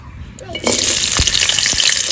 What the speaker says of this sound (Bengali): প্রথমে আমি আলুগুলো ভেজে নেব